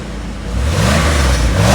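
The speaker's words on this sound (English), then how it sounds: "Here, go ahead and give it a lot of RPM." A Chevrolet Monza fitted with a 350 V8 and a muffler, running on old spark plugs, revs up from a low rumble to a loud sustained roar close to the microphone.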